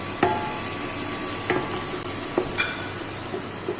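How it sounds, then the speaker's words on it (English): Garlic sweats in a pan with a steady soft sizzle and hiss, broken by several sharp scrapes and clinks of a utensil stirring against the pan. "So we are not going to burn the garlic, we are just going to sweat the garlic."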